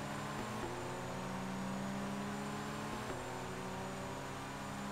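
Ford GT engine at full throttle in the racing game DTM Race Driver 2, a steady, fairly quiet drone that steps down briefly at two quick gear shifts, continuous and without talk.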